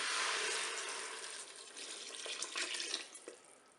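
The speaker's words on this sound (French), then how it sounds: "Je vais ajouter mon bouillon, donc 1 litre d'eau avec 1 cube de bouillon de volaille." A litre of water with a chicken stock cube poured into a Cookeo cooker for mushroom soup, a soft hissing splash close by that gradually thins and tapers off over a few seconds.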